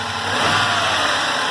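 Engine of a cheap Mercedes-Benz S-Class under restoration being revved on a cold start, a loud close rising engine roar held briefly.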